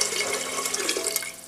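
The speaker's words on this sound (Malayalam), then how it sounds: "ഇനി ഇത് ചോറ് വേകാനുള്ള വെള്ളം ഒഴിച്ചു കൊടുക്കാം." Water pours steadily into a cooking pot for Kochi-style meat rice, a continuous close splashing gush that runs the whole moment without talk.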